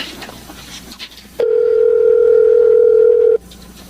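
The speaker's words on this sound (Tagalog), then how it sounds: "Tatawagan ko si Inay. Sana sagutin niya ang cellphone." A cellphone call rings out as a single loud, steady electronic tone lasting about two seconds, clean and close, with near silence before and after.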